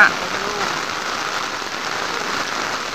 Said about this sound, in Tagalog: Ang lakas ng ulan dito sa sa Bukana